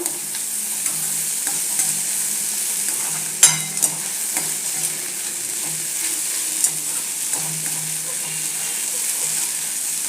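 Okra being stirred with besan and tomato in a pan, a steady close sizzle with soft scraping strokes and a few sharper clinks of the spoon against the pan, no voices.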